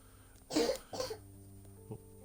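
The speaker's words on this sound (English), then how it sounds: "My daughter's asleep next to me, and she just coughed slightly." A young girl coughs slightly in her sleep, two soft close coughs followed by a faint third, heard alone against a quiet night-time background hum.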